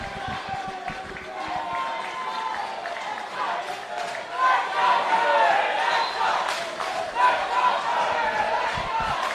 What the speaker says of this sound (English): Duly acknowledged by the crowd.